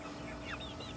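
Soft clucking from hungry chickens over a steady, noisy background hum ahead of a strong typhoon, brief and fairly faint.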